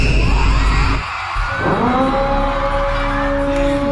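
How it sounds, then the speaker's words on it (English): Dense, loud crowd screaming and yelling added as a sound effect, a continuous roar with a brief dip near the start, then rising wails that carry on to the end. "Tommy, you added them screams"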